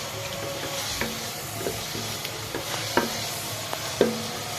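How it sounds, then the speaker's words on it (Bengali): Spices frying in a pot for pulao give a low, steady sizzle, with a few faint scrapes and clinks of stirring spaced a second or so apart, close but quiet, with no voices. "পোলাও দিয়ে আর কি মশলা কষাচ্ছি"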